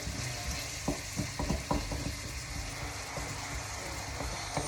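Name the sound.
frying softened vegetables in a wok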